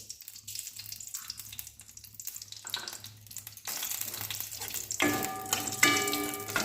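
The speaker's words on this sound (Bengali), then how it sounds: "কালো জিরে, একটুকু কালো সরষে ফোড়ন দেবো এর মধ্যে" Nigella and black mustard seeds hitting hot mustard oil, a quiet crackle that swells into a brighter, louder sizzle with sharp pops near the end, close by with no talk.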